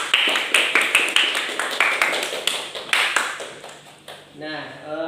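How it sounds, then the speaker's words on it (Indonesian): A classroom claps together in a round of applause, with irregular overlapping claps that fade out after about four seconds. Voices speak briefly at the end. "Kita beri tepuk tangan terlebih dahulu."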